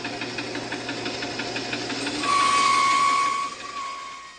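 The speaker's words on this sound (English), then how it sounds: "using the bandsaw, which is the only tool we're going to use for this project, just about, we're going to cut off those rough edges" A bandsaw trims the rough edges off a glued-up wood blank, a steady mechanical whir with rhythmic ticking that swells louder as the blade bites in midway, then eases back down near the end.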